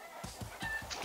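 In Far Cry 6, a rooster gives a rapid run of soft, low clucks, about five quick pulses in a second, faint and close against a hissy game background.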